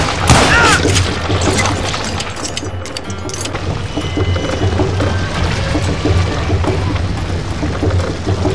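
Gunfire from the Western shooter Call of Juarez: Gunslinger, a steady dense barrage of shots and booms running throughout over a constant low rumble, loud and close.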